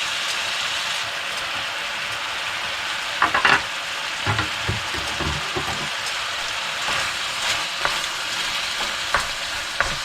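Onions stir-frying in a pan for an Asian wild boar stir-fry give a steady, bright sizzle, with a cluster of louder scraping stirs partway through and occasional softer clinks.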